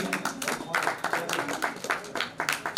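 Audience clapping at an honouring ceremony for distinguished guests in Jhansi, a steady patter of many hands, fairly faint, with a voice speaking over it.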